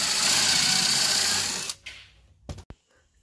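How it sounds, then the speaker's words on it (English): A close, high-pitched power drill whirs steadily for over a second driving pocket holes into 2x2 lumber, then stops, followed by a couple of short clunks and clicks. "now I'm going to start drilling pocket holes into these"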